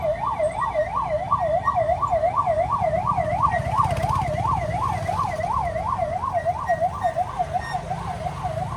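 A loud ambulance siren wails in a fast, rapidly rising and falling pattern, continuous over low road traffic rumble in Guwahati, Assam.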